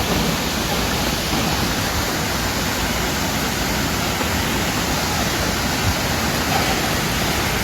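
Weisohphoh Falls at Sohra roars as a steady, dense wash of falling water, loud and unbroken throughout, with no voices.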